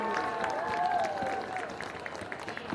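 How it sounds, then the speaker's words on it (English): Crowd applause at a high school soccer championship trophy presentation for the SLUH Junior Bears, a steady wash of clapping and cheering in a large space, with a public-address voice ringing over it. "let's give a big round of applause for the SLUH Junior Bears as the team is presented with their trophy"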